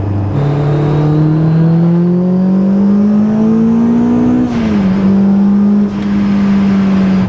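A supercharged Honda S2000 pulls hard under throttle, its loud, close engine drone climbing smoothly in pitch, dipping briefly partway through, then carrying on steadily.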